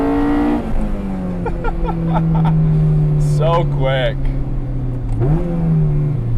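Honda CR-X Si engine rolling into the throttle around 5,500 RPM, a steady rising engine drone heard from inside the car, with a brief rev change near the end and someone talking briefly over it.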